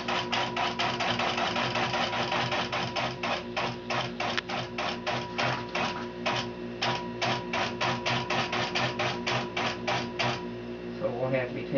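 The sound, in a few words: longarm quilting machine stitching a basting line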